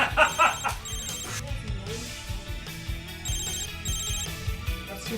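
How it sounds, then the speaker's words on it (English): A phone ringtone trills in short repeated bursts, set against a busy mix of music and background sound from a film scene. "That's your phone ringing?"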